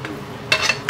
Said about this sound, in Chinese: 我们就把我们的豆腐放进去了